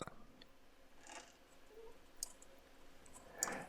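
A few faint, sharp mouse clicks on a computer while a backup drive is picked, spaced out over a quiet room hiss.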